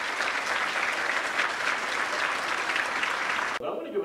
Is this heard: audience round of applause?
yes